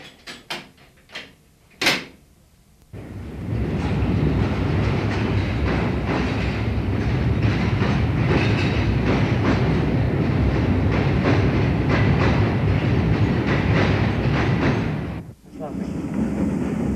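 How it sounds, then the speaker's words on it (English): After a few clicks and knocks, an underground train rumbles loudly along the rails for over ten seconds, then the noise drops away abruptly. "Returning trains use the other platform and have to be signalled into the depot for reversing later."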